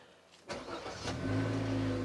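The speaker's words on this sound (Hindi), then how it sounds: "बाकी गाड़ी को अगर आप मैं स्टार्ट करके दिखाता हूँ" A Maruti Suzuki Baleno with a 1.2 litre four-cylinder petrol engine cranks briefly and fires up, then settles into a steady close idle hum.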